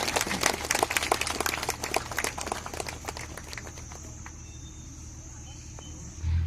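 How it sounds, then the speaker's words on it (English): An audience at a Chief Minister's mobilization rally in Tura, Meghalaya breaks into applause, a dense burst of clapping that thins out and fades over several seconds. "A round of applause for him"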